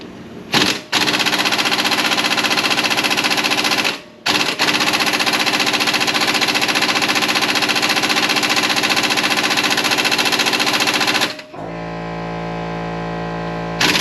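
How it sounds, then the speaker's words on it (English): Impact wrench hammering off bolts while Jeep brake rotors are replaced, loud rattling bursts running several seconds each with short pauses between, ending in a steadier motor whir. "There is no way I would have got that off without that impact wrench."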